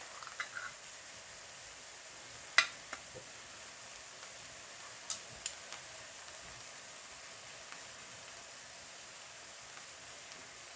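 Onions with honey reduce in a frying pan, a faint, steady sizzle with scattered small ticks and pops.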